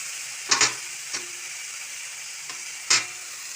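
Fenugreek leaves fry in a hot pan with a steady, bright sizzle, broken by a few sharp crackling spurts as they hit the oil.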